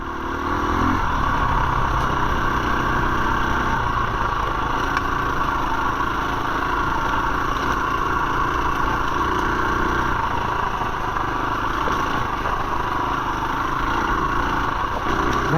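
A 2021 KTM 350 EXC-F dirt bike engine running on a ride, a continuous loud mid-pitched drone with slight shifts in pitch throughout, nearby and alone without speech.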